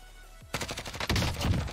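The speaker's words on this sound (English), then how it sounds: "Oh, it's the artillery." Artillery strike in Call of Duty Warzone: a rapid run of heavy explosive blasts and bangs bursts in after a quiet moment and keeps pounding loudly for over a second, dense and close.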